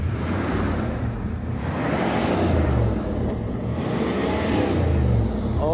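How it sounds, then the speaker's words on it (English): A stock 1979 Pontiac Trans Am Special Edition engine revs loudly and steadily outdoors, a dense, rumbling roar swelling and easing in waves for several seconds with wind buffeting the microphone. "Kelly, rev the engine for me"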